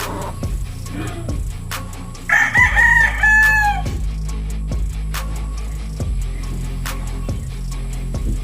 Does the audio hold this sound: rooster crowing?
yes